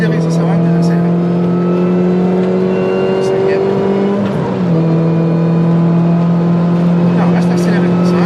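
A car engine drones loudly from inside while driving, holding a steady high rev with a brief dip and pitch shift midway before settling back under acceleration, as people inside talk over it.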